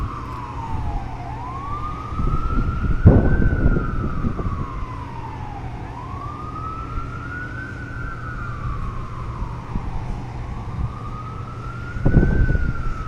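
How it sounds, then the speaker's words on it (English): Emergency sirens wail in slow rising and falling sweeps over steady Manhattan traffic rumble at night, with a couple of louder bumps of nearby noise. "You can hear the sirens."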